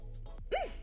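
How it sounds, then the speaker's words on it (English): A small burp or hiccup from a woman, a single short voiced gulp rising and falling in pitch, close and fairly quiet over a soft steady background hum. "I just had like a little burp / hiccup."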